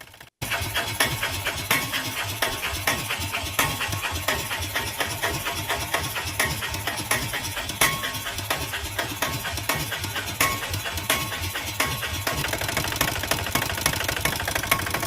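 A steady auto rickshaw engine idles close by, a continuous rattling, knocking chug with constant vibration and no speech over it.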